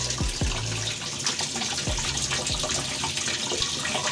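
Water gushes steadily into the tub of a Panasonic NA-W76BBZ2 washing machine as it fills, a loud continuous rushing flow heard close up with no voices.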